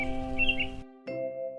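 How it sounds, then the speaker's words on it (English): Synthesized chirps sound over a sustained musical backdrop in a children's story about a little blue bird. A short twittering phrase comes first, then the music drops out briefly and resumes. "Every morning, the bird sang,"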